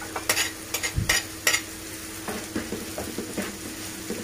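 Chopped onions sizzle in a pan for a mashed-potato casserole filling, with a steady hiss and sharp spatula scrapes and clicks near the start, then quieter stirring taps.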